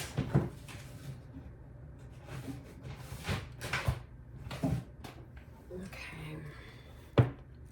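Someone tugs at a stuck drawer that will not open, producing several hollow wooden knocks and rattles spread across the stretch, with a sharper bang near the end and faint talking between them.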